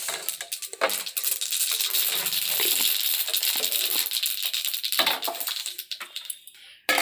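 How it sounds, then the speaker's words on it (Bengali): Mustard seeds splutter and crackle in a small amount of hot oil in a heated kadai, a dense run of sharp pops and sizzling close by, with no talk. "এবার অল্প একটু সরষে ফোড়ন দিয়ে দিলাম।"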